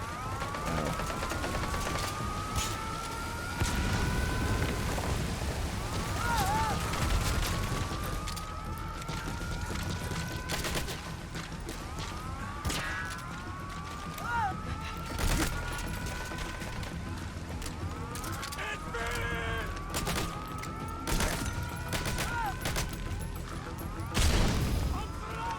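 Gunfire in Metal Gear Solid V strikes a wall in bursts of sharp cracks and rattles. A wailing siren-like tone and mechanical clatter sit under them, and someone talks over the scene.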